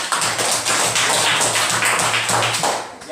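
Classroom of students applauding together in a dense, steady burst of clapping lasting about three seconds, loud and close with no talk.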